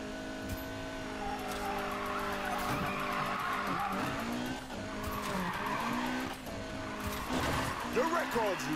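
A car drifts in Need for Speed Payback with sustained tire squeals and skidding over a revving engine, loud and continuous, while a person talks excitedly over it.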